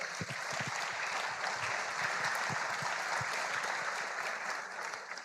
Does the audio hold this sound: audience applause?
yes